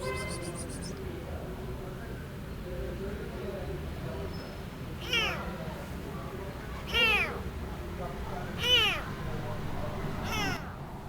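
A blind, starving kitten gives four loud, separate meows a couple of seconds apart, each rising and falling, over a faint background hum.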